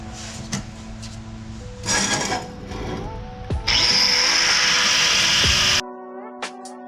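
Power-tool cutting on a 45-degree steel exhaust bend for a MK4 Supra downpipe, heard as two loud whining bursts, the second a sustained grind of about two seconds, between quieter workshop clatter.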